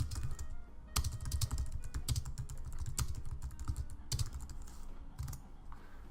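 Rapid, steady clatter of keys on a computer keyboard as text is typed, close and fairly loud with irregular louder strokes, alone without any talk.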